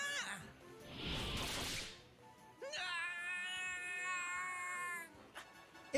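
A cat in Dragon Quest XI meows in a long, drawn-out caterwaul, close and clear, after a brief whooshing burst, with no speech over it.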